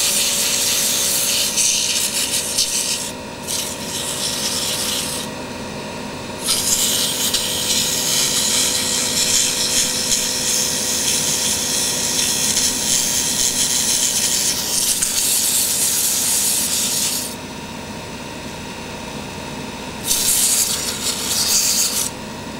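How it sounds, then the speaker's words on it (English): Sandpaper rubbing a wooden pen blank spinning on a lathe, a steady rasping hiss with the motor hum underneath, pausing briefly a few times as the paper is lifted, close and loud with no talk. "lightly sand back and forth while turning the lathe"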